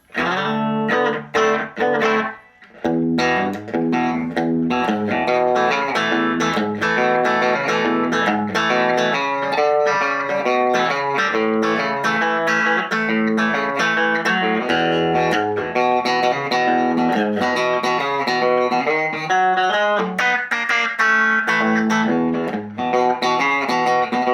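An electric guitar played through a ProCo RAT pedal set for overdrive rings out in continuous, dense chords and riffs, loud and unbroken for the whole stretch, with only a brief dip near the start.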